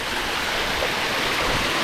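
A cold mountain stream beside a trekking path rushes and gurgles in a steady, broadband wash of flowing water, close and unbroken.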